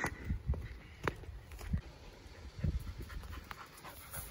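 A dog pants close by in quick, breathy bursts, with a few soft shuffles and clicks around it.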